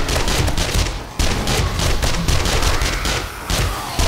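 Rapid, loud automatic gunfire from a drum-fed gun in a zombie survival game, a near-continuous burst with only a brief pause, close and dominant.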